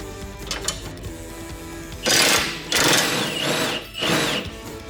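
A power tool loosens a 17 mm rear strut bolt in several loud bursts of whirring and rattling. Quieter mechanical noise comes between the bursts and no one speaks.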